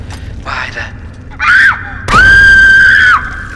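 In a Fallout 3 wasteland, a child's scream rings out from the ruins: a short cry, then one long, loud, sustained shriek, with no talk over it.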